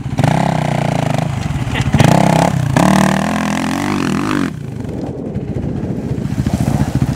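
An LTR 450 quad's engine revs hard and bogs during a hillclimb attempt on gravel piles, loud and close with rising and falling pitch, then dropping to a rough idle with faint clatter.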